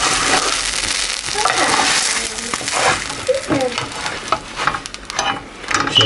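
A chicken and mozzarella sandwich with tomato ketchup frying in a pan, giving a steady close sizzle broken by scattered pops and crackles, with faint utensil scrapes and no talking.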